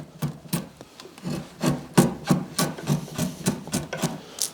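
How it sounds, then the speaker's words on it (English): A card scraper shaves the sharp drawknife-cut corners off a live-edge wooden slab, giving a steady series of close, rhythmic rasping strokes, about two per second, with no talking. "You'll see with the card scraper, it'll clean it right up."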